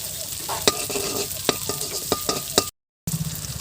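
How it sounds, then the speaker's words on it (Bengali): Radhuni spice hits hot oil for tempering in a village kitchen making Bengali mustard-greens curry, a steady close sizzle broken by sharp scraping and stirring clicks, with a brief dropout near the end. "এবার ফোড়নে রাঁধুনি দিয়ে দিলাম।"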